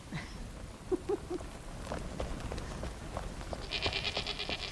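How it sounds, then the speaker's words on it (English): A goat in the video game Enshrouded gives a few short bleats in quick succession at moderate distance, over a steady rain-like background hiss. "Our little goat."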